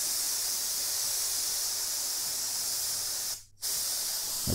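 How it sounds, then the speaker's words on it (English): A steady, loud hiss of compressed air spraying continuously onto a motorcycle helmet visor, cutting out briefly near the end before resuming. "Check out what happens when I induce compressed air."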